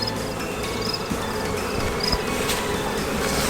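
Angry honey bees swarm around an opened hive stacked with a second brood box, worked without smoke, making a dense, steady buzzing drone that fills the clip, with a few sharper whines passing close.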